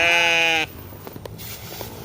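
A sheep gives one loud, close, drawn-out bleat that stops abruptly, followed by quiet farmyard background with a few faint knocks and rustles.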